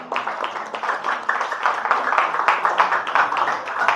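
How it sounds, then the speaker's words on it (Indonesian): Students in a classroom clap for two classmates who answered a question, a brisk, loud patter of many hands running steadily throughout. "beri tepuk tangan untuk Salsa dan Enggar dong"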